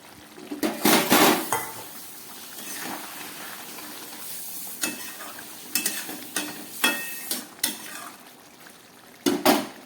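Fried prawns tumble into a pan of simmering cauliflower and potato curry, bringing sharp metallic clanks of a spoon against the pan in bursts, scraping stirs and a soft sizzle underneath, close and fairly loud.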